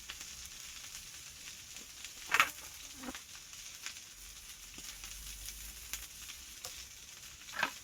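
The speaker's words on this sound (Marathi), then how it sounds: "हे बरे भाजले ना, तर आता 4 मिरच्या घालतो जरा" Green chillies frying with vegetables in a home kitchen pan, a steady soft sizzle throughout with a few sharper crackles and stir scrapes, close and moderately quiet, no talking.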